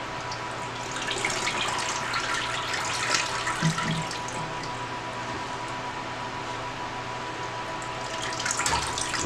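Water is poured to soak a newly mounted Miltoniopsis vexillaria orchid, making a steady splashing, trickling rush that continues throughout, fairly close but soft.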